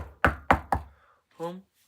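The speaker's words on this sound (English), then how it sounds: "they knocked on the door of the home" Three quick, loud knocks on a door in an even rhythm, followed by a short voiced sound after a pause.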